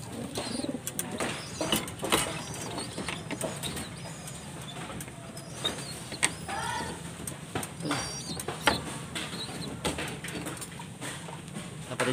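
Pigeons cooing in a backyard loft in San Pablo, Laguna: soft repeated coos at close range among scattered clicks, wing flutters and rustling, with someone talking in between.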